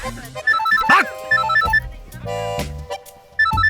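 A phone rings with a loud, bright melodic ringtone in repeated beeping phrases, mixed with brief bursts of other sound, with no talking.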